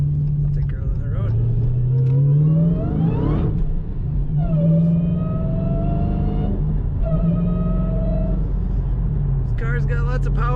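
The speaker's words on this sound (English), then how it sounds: "Today we're driving a fun car, 2016 Dodge Challenger Hellcat." A 2016 Dodge Challenger SRT Hellcat with a 6-speed manual drives on the road, its loud engine rumbling close up and repeatedly climbing in pitch through the gears, with brief dips between shifts.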